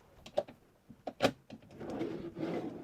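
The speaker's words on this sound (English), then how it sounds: "open the drawers" A storage drawer beneath the bed of a Mobilvetta K-Yacht 90 Tekno Line motorhome opens close by, with a few sharp clicks and knocks followed by a soft sliding rumble.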